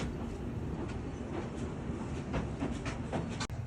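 Shan passenger train on the Thazi–Taunggyi line rolling along the rails, a steady broadband rumble with rhythmic clickety-clack of wheels over joints, heard from aboard with no talk.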